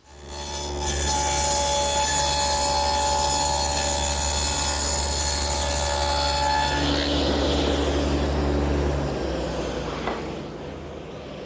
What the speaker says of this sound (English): With the dado now installed in the table saw, I've just run a rabbet down the back edge of the end panel